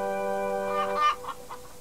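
Cartoon chickens cluck in a short flurry of several quick, bright bursts following a sustained musical tone, with no one talking over them.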